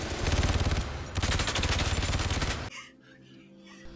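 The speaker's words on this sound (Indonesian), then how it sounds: "serangan itu pun membuat Sean tertembak dan tewas seketika" Rapid bursts of gunfire in the film The Purge: Anarchy rattle loudly for a few seconds, then cut off abruptly, leaving a quiet low hum with faint background sounds.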